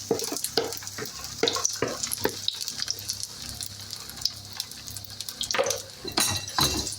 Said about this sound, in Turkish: Evet arkadaşlar mücverimiz pişiyor.